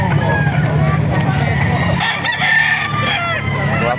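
Roosters crow repeatedly at a busy chicken market in Baliuag, their calls rising over steady crowd murmur and talking voices, with clucking fowl mixed in close by.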